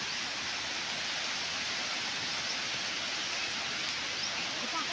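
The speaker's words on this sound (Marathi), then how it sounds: "पाऊस पण चालू झाला. अजून पाऊस पण बंद नाही." Rain falls outdoors during a heavy downpour with water running in a flooded stream, a dense, even hiss of steady rainfall that continues without a break.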